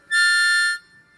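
A harmonica sounds a single draw note, a bright, steady reedy tone held for just under a second, close and clear, before fading into near silence.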